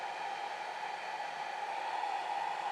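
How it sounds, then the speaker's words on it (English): A hair dryer blows in a steady, faint whoosh over an alcohol ink painting on paper, an even airy hiss with no breaks throughout. "Also notice that I am pointing my dryer away from the ink, not toward the ink at any point."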